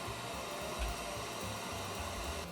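A hot air gun desoldering, a steady, constant blowing whir running without pause, filling the whole clip with broadband noise.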